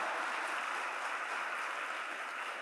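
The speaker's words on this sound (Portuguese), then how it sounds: "pode aplaudir, não deixa ele aplaudir sozinho não" Faint, steady applause from a church congregation during a Portuguese-language sermon, a continuous wash of clapping with no voices over it.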